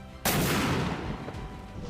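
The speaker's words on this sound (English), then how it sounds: "This mortar fires from the mounted position within the vehicle." A Stryker armored vehicle fires its vehicle-mounted mortar: a single sharp, loud blast that begins after a short quiet stretch and then rolls off into a long, reverberant boom and rumble.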